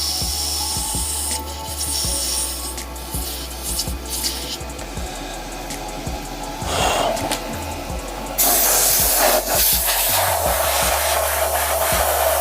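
A power sander works over an epoxy resin shaving brush with a steady, close hissing whir and a constant motor hum, growing harsher and louder near the end.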